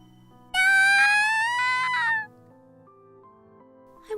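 A single long, loud, close cat meow that rises and then falls, followed by quiet background tones.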